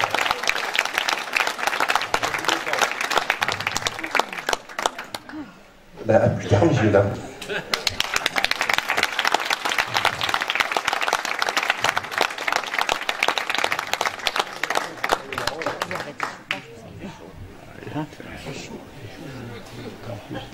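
Applause from a village audience at an outdoor event in Saint-Pierre-du-Chemin, steady clapping running under a voice almost throughout, with a short loud burst midway.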